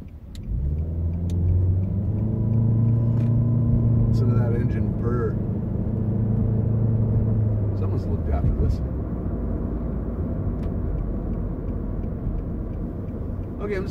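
A 2013 Nissan Sentra SR drives along with a steady, smooth engine and road rumble from inside the cabin, the tone rising and easing as it accelerates, while people talk over it.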